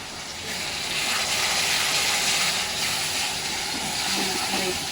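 Spice paste for prawn malai curry sizzles steadily in hot oil, a continuous loud hiss that fills the whole stretch with no talking.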